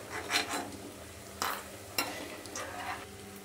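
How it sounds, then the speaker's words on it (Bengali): Fried lentil dumplings (bori) being lifted out of hot oil, with a steady low sizzle of frying and a few sharp scraping clinks of a utensil against the pan. "বড়িগুলো ভাজা হয়ে গেছে,"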